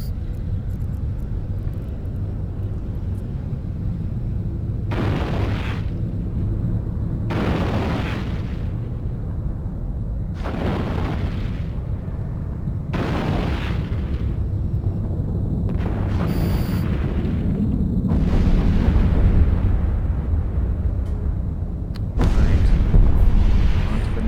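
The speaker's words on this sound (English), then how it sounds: "Blowing up a peacekeeper." A ship under attack in Eve Online takes a series of five or six booming, roaring blasts spaced a few seconds apart over a steady low rumble, with the final impacts heavier and louder.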